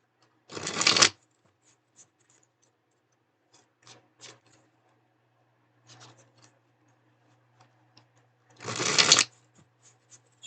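An Ethereal Visions tarot deck is riffle-shuffled in two short, crisp bursts near each other and several seconds apart, with faint taps and card handling in the quiet between them.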